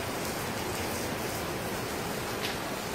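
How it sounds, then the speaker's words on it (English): Steady, soft rain hisses continuously, an even wash of falling water with no voices. "The rain has started."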